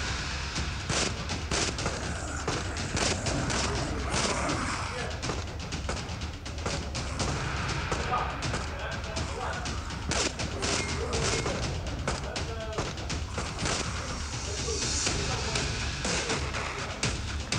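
Rapid gunfire from zombie shooter Left to Survive, dense overlapping shots and thuds filling the mix continuously at steady loudness, with game effects layered throughout.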